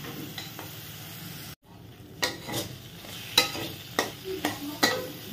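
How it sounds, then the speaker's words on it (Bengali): Spices being sautéed in a pan for a vegetarian chhana kofta curry: a low steady sizzle with repeated scraping stirs and spatula taps, close and moderately quiet, no voices. "এবারে মশলাটা একটু কষিয়ে নি।"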